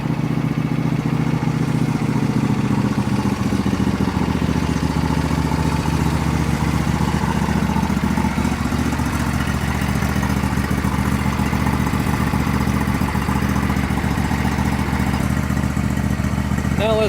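A 2004 Troy-Bilt 809H garden tractor riding mower runs at a steady idle, a low, even engine drone with light mechanical clatter, close by and fairly quiet, with no talk over it.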